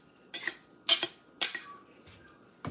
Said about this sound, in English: So now I gotta pull the big knife out.